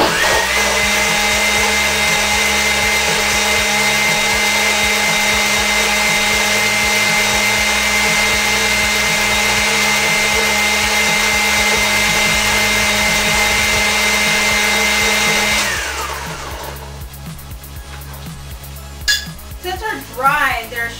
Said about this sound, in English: you're going to have to go back in and blend it a few times.